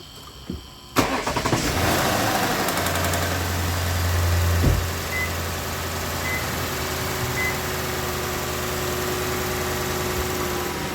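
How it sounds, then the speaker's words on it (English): A Lexus LS460, in for a misfire, cranks and fires with a sharp start, a brief rattle from oil starvation, then settles into a steady, close idle that stays loud and even. "Let's start it up and then check for codes."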